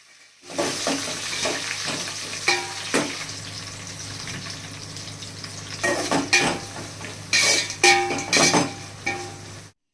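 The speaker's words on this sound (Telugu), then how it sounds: "అవి కొంచెం ఫ్రై అయిన తర్వాత ఒక ఉల్లిపాయ నాలుగు పచ్చిమిర్చి వేసుకోవాలి" Onion and green chilies sizzling in hot oil with whole spices such as cinnamon, bay leaf, kasuri methi and cardamom for chicken biryani, with a steady fry broken by spoon stirs and clinks against the pan.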